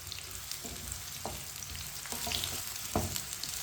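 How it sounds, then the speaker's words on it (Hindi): Potatoes and eggplant frying in a pan over medium heat, a soft continuous sizzle with a few light stirring knocks, fairly quiet and close. "मीडियम आंच पर इसे 2 मिनट के लिए फ्राई कर लेंगे।"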